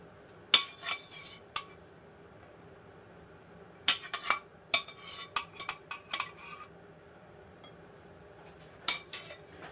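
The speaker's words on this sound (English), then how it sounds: "So let's get the bacon out." Cooked bacon being lifted out of a metal pan, a string of crisp clinks and scrapes of utensils against cookware in irregular bursts, close and fairly quiet with no talking.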